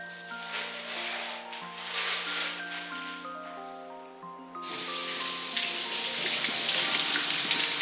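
A tap runs into a sink to wash green peppers, and background music plays; about halfway through the water gets louder and steadier as the stream strikes the peppers.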